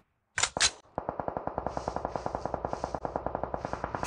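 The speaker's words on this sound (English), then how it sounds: "Shooting somebody in the face." Gunfire in a competitive video game match: two sharp shots ring out, then a long rapid burst of automatic fire rattles at a steady fast rhythm, loud and close.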